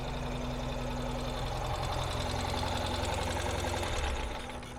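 A 2024 Ural Gear Up Ember Flame Expedition sidecar motorcycle idles steadily up close, its low, even engine thrum holding a smooth rhythm throughout before easing slightly at the end.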